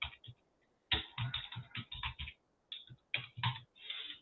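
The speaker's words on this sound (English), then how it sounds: "sorry for my typing skills." Keys clack on a computer keyboard in quick bursts separated by short pauses, close and fairly quiet, with no voices over it.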